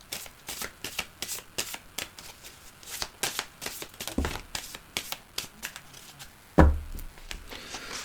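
Tarot cards being shuffled by hand in a quick, steady rhythm of crisp riffling bursts, close and clear, with a louder thump as the deck is knocked down near the end.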